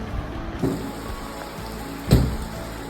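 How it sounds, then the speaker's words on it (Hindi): Heavy monsoon rain pouring steadily outdoors, a dense hiss with a couple of louder splashing thumps, no voices. "इतनी ज़्यादा बारिश का मौसम हो रहा है"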